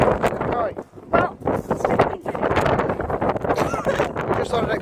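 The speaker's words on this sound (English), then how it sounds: "It's so windy, guys." Gusty wind buffets the microphone outdoors, a loud continuous low rumble that swells and dips, with a person speaking through it.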